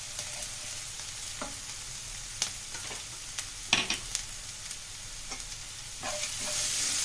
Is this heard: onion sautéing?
yes